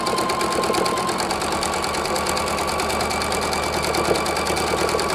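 A sewing machine stitches quilt strip blocks a quarter inch from the edge, its needle running in a steady, fast mechanical rhythm close by without pause.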